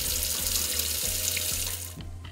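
Tap water runs steadily into a sink while rice is washed, a close, continuous rushing hiss with a low rhythmic gurgle underneath, easing slightly near the end; no talking.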